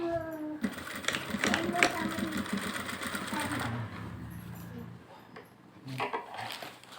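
A sewing machine stitches a blouse in a V shape, running in fast, steady rattling stitches for about three seconds before stopping, with a voice speaking alongside and some brief clinks afterward.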